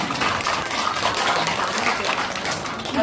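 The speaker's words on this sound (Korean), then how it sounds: "박수 한번 쳐주세요." An audience at a Buddhist temple Dharma talk claps together, a dense, steady burst of applause lasting a few seconds with some voices mixed in.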